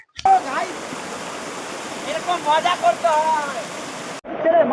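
Constant rushing water from Motijharna waterfall and its stream in Jharkhand fills the scene, with people talking over the steady roar.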